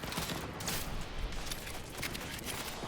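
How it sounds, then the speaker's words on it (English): Gunfire in a Cyberpunk 2077 firefight: dense, overlapping crackling volleys from several shooters, fairly faint and continuous, with sharper shots poking through the din. "Oh, everybody's shooting at me."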